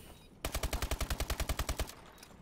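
Call of Duty match gunfire: a close, loud burst of roughly fifteen evenly spaced automatic shots fired in rapid rhythm, standing alone against a quiet background before cutting off abruptly.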